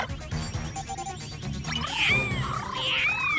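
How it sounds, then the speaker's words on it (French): A cartoon cat meows in a park, rising and falling mewing calls in the second half over a busy animated soundtrack with music and thumps, alongside bird chirps. "je capte des miaulements et un chant d'oiseaux dans le parc"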